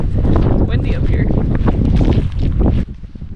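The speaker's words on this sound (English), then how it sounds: "Windy up here." Strong wind gusting on an exposed mountainside near a lodge on Hakusan, loud buffeting roar against the microphone that rises and falls, then eases near the end.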